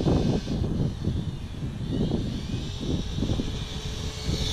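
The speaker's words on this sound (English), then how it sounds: "Here's a quick video of how fast my TRX4 is running." A Traxxas TRX4 Bronco RC truck with a Hyrax 3S setup, 16T pinion, stock ESC and motor runs in first gear, giving a steady motor whine over close crunching and rumbling from the tires on rough ground.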